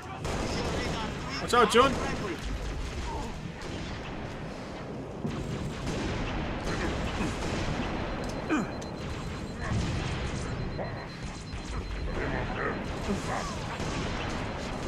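Gunfire in the video game Halo Reach, dense bursts of shots and booms over a busy battle mix, with a voice speaking briefly over the din.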